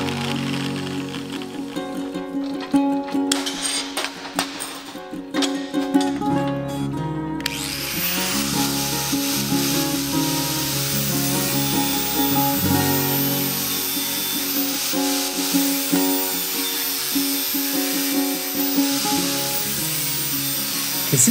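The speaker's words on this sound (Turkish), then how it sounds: "Kesim işlemini kolaylaştırmak için avuç taşlama makinesiyle önce dikine kesikler atıp ardından bu kesiklerin üzerinden yatay şekilde giderek işlemi tamamlıyoruz." Angle grinder cutting a steel plate into a knife profile, working in vertical cuts and then horizontal passes; a loud, steady high-pitched grinding whine runs continuously from about a third of the way in, after a choppier start.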